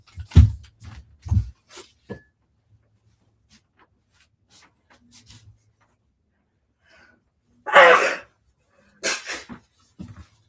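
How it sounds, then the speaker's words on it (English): A single loud, sharp sneeze erupts near the middle of the clip, preceded by soft breaths and handling sounds and followed by brief exhalations, close to the mic with no talking. "I might sneeze in a minute."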